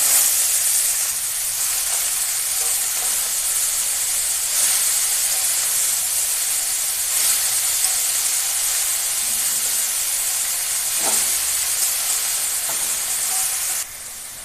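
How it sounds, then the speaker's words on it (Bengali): Steady, bright sizzling hiss of chopped leafy greens frying in hot oil with browned garlic, close and continuous, with a few soft clinks before it quiets slightly at the end. "রসুনটা লাল লাল ভাজা হয়ে গেছে এখন শাক দিয়ে দেবো"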